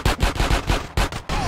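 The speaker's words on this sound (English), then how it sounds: "Yo, the gunshots always get me in this game" Rapid bursts of gunfire in GTA San Andreas, a quick series of sharp, punchy shots in an uneven rhythm, loud and close.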